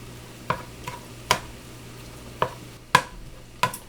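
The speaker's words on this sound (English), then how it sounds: "I'm going to take 2 cans, about 15 ounces, so it's 30 ounces altogether, of cannellini beans, and put them in here and saute them a little bit" Cannellini beans, two 15-ounce cans, sautéing with Italian sausage and kale in a pan, giving a soft steady sizzle broken by six sharp spoon-and-pan clinks of stirring, spaced irregularly, with no voices.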